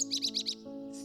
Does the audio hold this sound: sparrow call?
yes